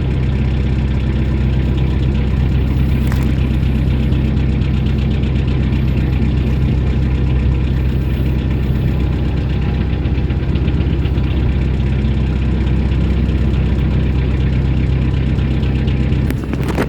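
A narrowboat's diesel engine idles steadily with a deep, constant rumble and low knocking throb, loud and close, unchanging throughout.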